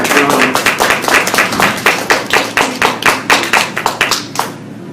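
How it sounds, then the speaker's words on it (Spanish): A church congregation claps in unison, with loud, close, rhythmic claps in a steady beat that slow and thin out before stopping near the end. "¿Cuánto le pueden dar un aplauso al Señor?"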